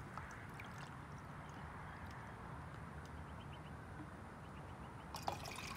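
Water is poured into a 600 ml titanium cup outdoors, a soft, steady stream of trickling and filling that stays faint for several seconds without any speech.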